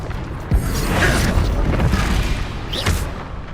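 Confringo fire spell explosion in the Hogwarts Legacy video game on PS5, a deep booming blast that rolls out for a few seconds amid combat effects, with a second burst near the end.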